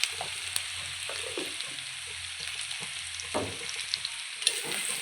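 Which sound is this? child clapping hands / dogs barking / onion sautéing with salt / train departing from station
onion sautéing with salt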